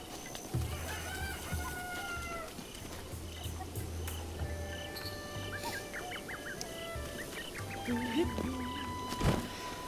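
Chickens clucking and a rooster crowing in the video game Breath of the Wild, with several overlapping clucks and calls over a low rhythmic background hum.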